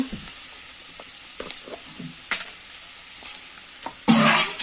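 Food fries in a salted pan as it browns, giving a steady low sizzle with scattered stirring knocks and a louder burst of hissing near the end.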